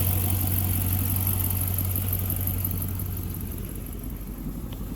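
A 2015 Dodge Charger Pursuit engine idles steadily with a low, constant rumble that eases slightly toward the end, no voices.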